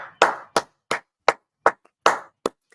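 Seven sharp, evenly spaced hand claps play alone, crisp and close like a brief applause effect from a button, each one ringing out quickly before the next.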